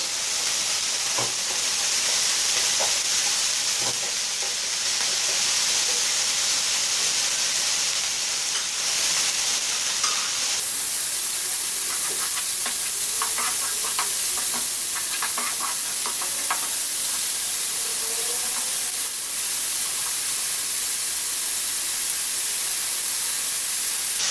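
Chicken pieces sizzle and fry in a pan with a constant loud hiss, while a utensil stirs and scrapes in short intermittent bursts, and no one speaks.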